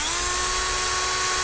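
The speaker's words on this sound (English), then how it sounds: "I will just put this in the chuck of a drill" An electric drill twisting a length of wire whines at a steady high pitch, a single continuous close-up run with no talking.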